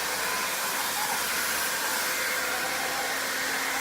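An I Mop floor scrubbing machine works wet chemical into tile grout, giving off a loud, steady whirring and hissing drone that holds unbroken from start to finish.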